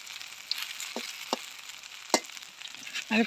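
Kalai greens fritters in rice flour batter fry in hot oil, a soft, continuous sizzle with a few scattered pops and crackles, fairly quiet, with no one speaking.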